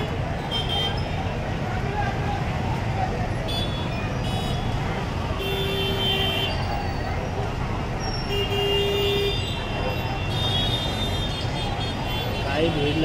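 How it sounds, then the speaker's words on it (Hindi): Congested road traffic in a jam: a steady dense rumble of engines with several short car horn toots scattered throughout, while people talk nearby. "पूरा ट्रैफिक जाम कर रखा है इन्होंने पूरा वहाँ से लेके यहाँ तक।"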